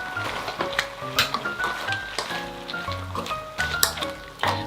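Fish cake and potatoes stir-fry with garlic in a pan, uncovered while the broth reduces, giving a busy, crackling sizzle with clinks and scrapes of a utensil against the pan up close.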